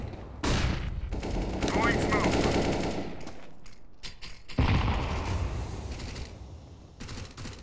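Rapid bursts of gunfire from Counter-Strike: Global Offensive during a competitive match, loud and dense, with a brief lull before another heavy volley; in-game effects and voice chatter mix in underneath.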